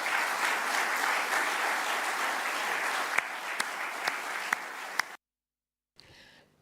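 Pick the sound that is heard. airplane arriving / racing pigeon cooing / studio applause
studio applause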